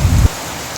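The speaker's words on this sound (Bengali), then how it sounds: "তো অনেক বৃষ্টি হচ্ছে" Heavy rain pouring down in a Bangladeshi village, a dense steady hiss of falling water close around, with a brief low rumble at the very start that cuts off sharply.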